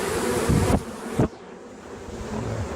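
Honey bees buzzing densely around the bottom of a hive, a close, steady swarm hum with a couple of brief louder rustles early on, no voices.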